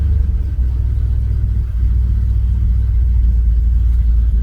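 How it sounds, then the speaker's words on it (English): A Chevy C10 truck engine idles alone, producing a steady, loud low-pitched rumble that holds even throughout with a brief dip near the start. "Let it idle here for just a minute by itself."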